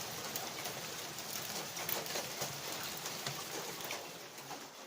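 Steady rain and hail fall outside in a dense continuous hiss with scattered impacts, while birds coo faintly in the background.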